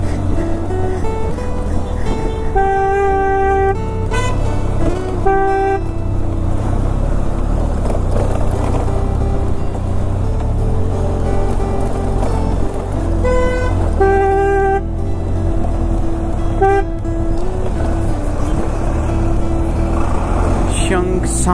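A car driving along a hill road in the mountains near Jageshwar Dham and Chaukori, Almora, with a steady engine drone throughout and repeated horn toots at intervals.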